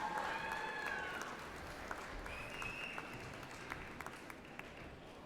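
A convocation audience claps for Red River College Polytechnic's spring 2023 graduates, heard as steady, moderately distant applause that fades slightly, with faint whistles near the start.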